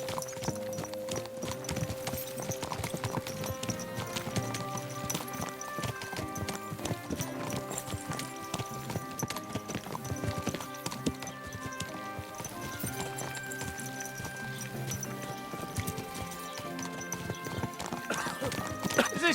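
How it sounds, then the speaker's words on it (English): Horse hooves clip-clop steadily in Kingdom Come: Deliverance 2, a continuous rhythmic clatter of hoofbeats with a possible neigh, heard over game music and ambience. "Watch out for that horse."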